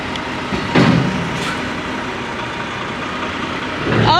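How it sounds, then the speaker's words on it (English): A truck backs up toward a trailer, its engine a steady low rumble throughout, with a brief louder surge near the start and another rise at the very end. "he's backing up to the other trailer that they're moving the stuff into"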